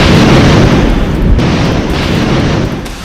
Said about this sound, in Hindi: खाली हो चुके रिहायशी इलाकों में गोलीबारी हो रही है।